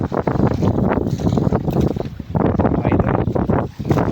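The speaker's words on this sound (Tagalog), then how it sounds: "Mahangin na." Strong wind at sea sweeps over a small fishing boat out night fishing, loud, gusting rushes buffeting the microphone in uneven surges throughout.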